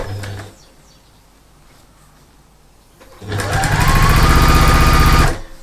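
A sewing machine stitches fabric strips together with a quarter-inch seam for a holiday table quilt, first quiet handling, then a loud, steady close-up mechanical whir lasting about two seconds before stopping.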